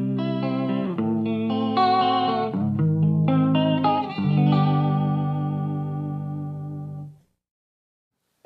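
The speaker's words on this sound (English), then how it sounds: "You get traditional vibrato sounds." Electric guitar played through an Eventide ModFactor modulation pedal set to a traditional vibrato, sustained chords and notes wavering in pitch with a steady pulsing warble, loud and close, ringing out before cutting to silence.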